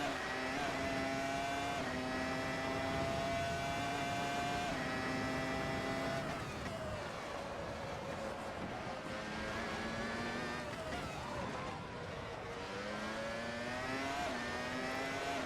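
Race car engines in Assetto Corsa, with F1 1999 cars on track, drone continuously throughout. The pitch shifts in held steps as gears change. The sound stays fairly loud and even, and no one talks.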